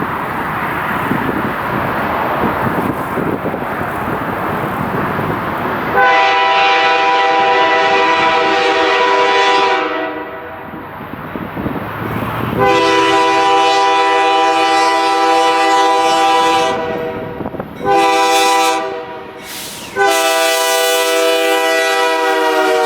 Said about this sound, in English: we got to see 987 come downhill at the Tulsa International Airport. And it turns out this locomotive has a Canadian horn on it